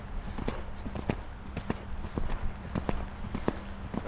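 A riding horse's hooves strike the ground in a steady, even clip-clop stride, fairly close and alone without talk.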